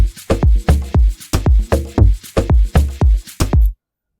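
An Afro House percussion loop with a dozen or so punchy, evenly spaced hand-drum hits in a steady rhythm. It plays close and fairly loud, then stops abruptly into silence.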